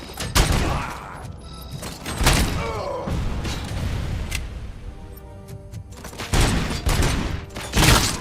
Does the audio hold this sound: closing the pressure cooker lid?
no